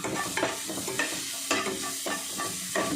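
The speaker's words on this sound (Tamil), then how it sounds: "வதங்கிட்டே இருக்குது பொடி பொடியாக வெட்டின கேரட்" Finely chopped carrots sauté in a pan under a steady sizzle, with a spoon stirring in regular scraping strokes roughly every half second, close and continuous with no voices.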